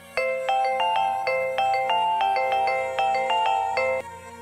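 A mobile phone ringtone plays as a call is placed to a mother, a bright repeating melodic tune of short chiming notes that loops for about four seconds before cutting off, alone with no talk.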